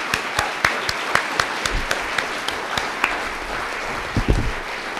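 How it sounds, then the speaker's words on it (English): An audience at a 2018 candidate forum for Sundberg and Madrone applauds both candidates. Steady, moderately loud clapping runs throughout, with a few sharp individual claps standing out and a brief low thump near the end. "let's give both candidates a round of applause"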